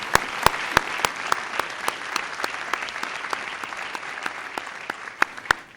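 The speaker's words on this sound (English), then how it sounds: "Could we get a round of applause, please, for the Sisters of Charity Health System?" An audience applauds for the Sisters of Charity Health System during a State of the County address, a steady wash of clapping with sharp individual claps standing out, moderately loud and sustained, with no talking.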